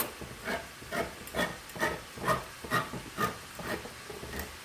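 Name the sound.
can of diced tomatoes with liquid added to hot pan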